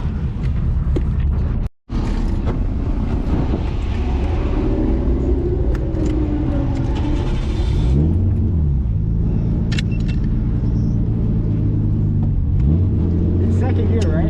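Nissan R32 Skyline GTS-t on a race track, its engine rumbling steadily and loud from inside the cabin, with harmonic pitch sweeps as the revs rise and fall through gear changes, and voices talking over it.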